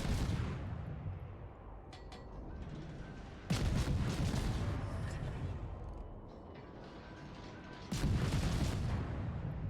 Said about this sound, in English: The Bretagne is finally firing, but he's using HE